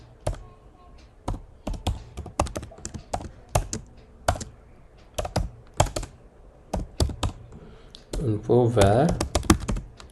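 Rapid, uneven tapping on a computer keyboard while an SQL query is typed, with clustered clicks close to the mic and a brief spoken word near the end.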